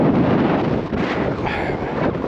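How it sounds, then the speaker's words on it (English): Wind blows hard at a winter wild camp in the mountains of Glencoe, a loud continuous rushing buffet battering the microphone, swelling and easing slightly as gusts come and go. "That wind comes and goes."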